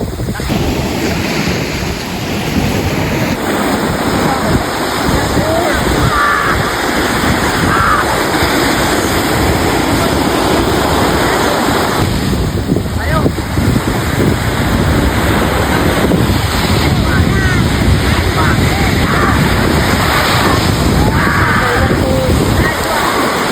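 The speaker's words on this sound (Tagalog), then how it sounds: "Lakas na nung alon." Strong ocean surf breaking at La Union: loud, continuous roar of crashing waves mixed with heavy wind buffeting the microphone, with voices talking underneath throughout.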